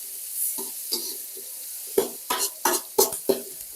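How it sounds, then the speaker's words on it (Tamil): Onions and tomatoes frying in a pan for an egg chicken fry, a soft steady sizzle under a series of close, quick scraping stirs that speed up in the second half. "நல்லா வெங்காயம் தக்காளி எல்லாம் நல்லா வதக்கிடுவோம்."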